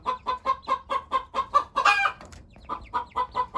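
Hens and roosters in a coop give a steady run of close, regular clucks, a brief louder squawk midway and then the even clucking again, with no talk.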